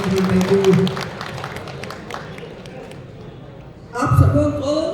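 An audience gives a seminar speaker a round of applause: dense clapping that thins out and fades over a few seconds before a voice begins speaking.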